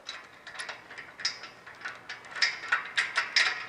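A ratchet tightens a bolt and nut on a drum mower, a close series of quick, crisp clicks in short bursts that grow louder and more rapid toward the end.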